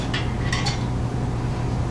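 A few light metallic clinks as the metal lid is lifted off a bomb calorimeter, close by, over a steady low hum.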